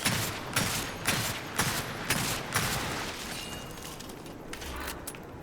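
Gunfire from the video game Gears 5, a series of sharp, loud bursts repeating roughly every half second, then thinning out into a quieter tail near the end.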